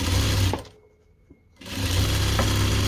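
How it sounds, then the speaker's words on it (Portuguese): A sewing machine runs a short safety stitch on fabric, loud steady whirring that stops for about a second and then starts again. "vou passar primeiro uma costurinha de segurança"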